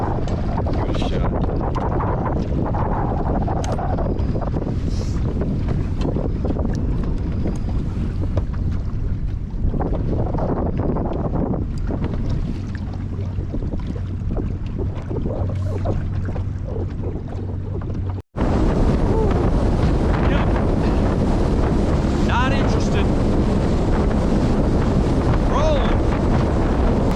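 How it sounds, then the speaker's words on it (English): Strong wind howls around a boat on Lake Powell, a constant loud roaring buffet against the microphone with splashing water beneath, briefly cutting out before resuming just as forcefully. "there's that wind. It is howling around that corner."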